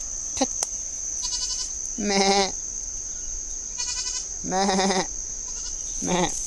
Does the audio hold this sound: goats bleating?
yes